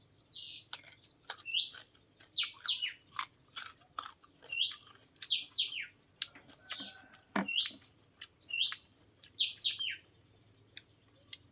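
Birds chirp and whistle in quick bright bursts, one call after another, with no other sound around them.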